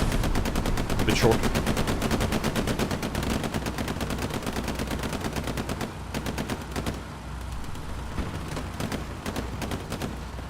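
Dense bursts of automatic gunfire and heavy impacts rattle through a WWII battle game set at Omaha beach, with a rocket strike amid the rapid fire and a brief voice over it.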